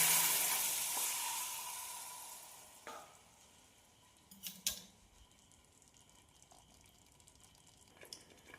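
Masala for a Kerala-style mango pickle sizzles loudly in a pan as vinegar goes in, then the hiss fades to a softer bubbling with a few scrapes and clinks of stirring.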